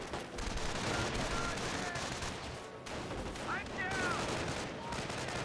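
Gunfire rattles through a World War II battle in Company of Heroes, with dense bursts of rifle and machine-gun fire mixed with heavier impacts and a sharp whistle, loud and continuous.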